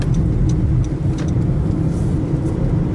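Road noise inside a 2013 Honda Fit EV electric car while driving: a constant loud rumble of tires and wind, without engine roar, and no voices.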